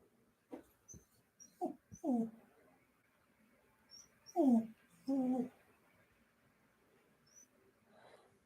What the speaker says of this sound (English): My dog is so whiny.